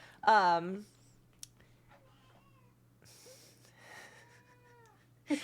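A house cat gives a loud, drawn-out meow near the start, followed by quieter murmurs and a second softer, wavering call, with a brief squeak at the end over a low steady hum.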